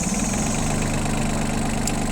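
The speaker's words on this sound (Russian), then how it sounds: "Сейчас будем запускать трактор." A compact utility mini tractor with reverse and power steering idles steadily, its engine giving a continuous low, even drone close by with no talk.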